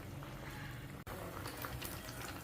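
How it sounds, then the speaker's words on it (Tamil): A spicy South Indian brinjal gravy, kara kuzhambu with chickpeas, bubbles in a pot on the stove, giving a steady, faint, close hiss and crackle of boiling liquid with no talking. "இப்போ இது கொதித்து இந்த கத்திரிக்காய் நல்லா வெந்துடும்"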